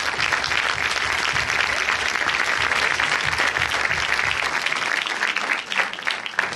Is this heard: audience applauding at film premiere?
yes